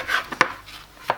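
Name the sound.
knife cutting bread slices into four portions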